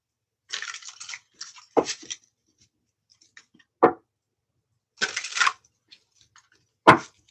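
Tarot cards are shuffled by hand in a few short, crisp riffling bursts, with soft taps and slaps of the deck between them in a quiet room.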